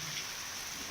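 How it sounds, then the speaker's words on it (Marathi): Heavy rain pouring down steadily in Beed, a dense, even hiss of downpour with no breaks. "बीडमध्ये देखील सलग दुसऱ्या दिवशी मुसळधार पाऊस पडतोय"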